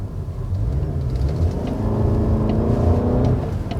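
A Toyota Camry Hybrid's engine rises in pitch under hard acceleration on a winding road, a steady rumble and climbing drone heard from inside the cabin, with no talking.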